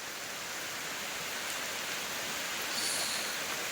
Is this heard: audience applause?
no